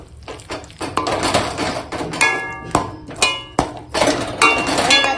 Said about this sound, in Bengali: পিতলের হাতা দিয়ে এখন কেটে দিচ্ছি